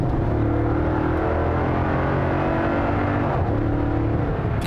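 A 2021 Toyota Tundra 1794 pickup truck accelerating hard, a steady loud engine drone with rising harmonic tones running throughout, briefly dipping near the end as it shifts.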